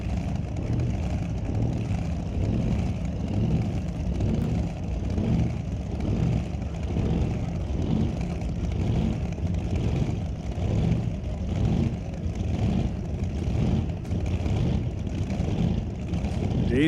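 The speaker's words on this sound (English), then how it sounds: "So Derek Shirk tower side in a 2022 Mullis built dragster." Dragster engine at a drag race, a 2022 Mullis-built dragster, producing a loud, steady, rumbling roar with rhythmic pulsing throughout, continuous and close with no break.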